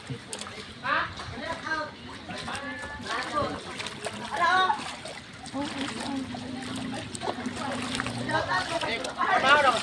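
Floodwater splashing and sloshing in a flooded village, with intermittent wading splashes under near, frequent talking.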